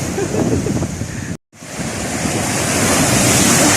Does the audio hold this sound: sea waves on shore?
yes